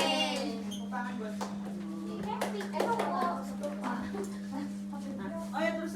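A group of children clap their hands in a classroom during a religious studies lesson, short bursts of claps mixed with their chatter over a steady electrical hum.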